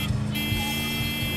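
In-game vehicle engine from Battlefield 4, a steady low drone running continuously with a tonal whine layered above, loud and close throughout.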